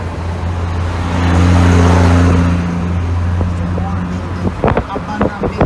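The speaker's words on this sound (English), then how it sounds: "Jamaica garbage truck." A garbage truck in Jamaica rumbles past with a low, swelling engine drone that peaks and then fades, against wind buffeting and a few sharp knocks near the end.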